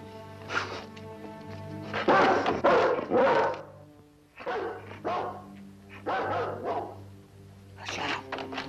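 A dog barks repeatedly in a 1960 Western television drama, with several bursts of barking and yips spread across the scene at moderate distance, separated by short pauses.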